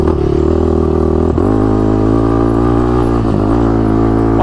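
A fully adaptive ATV built for an amputee veteran runs near and loud with a steady engine drone, its pitch dropping slightly around a smooth downshift made without the foot shifter, then settling back to an even idle-like hum.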